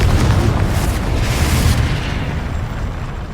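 A Confringo explosion spell blasts in the video game Hogwarts Legacy, a single loud booming burst that quickly fades.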